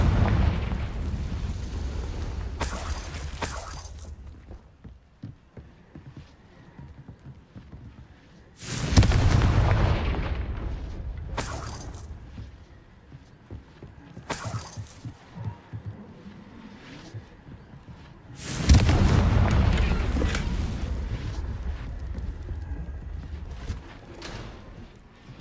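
Confringo fire spell blasts in the video game Hogwarts Legacy on PS5, landing as four loud, broadband booming explosions spread across the clip, each followed by a rumbling decay, with quieter combat noise between them.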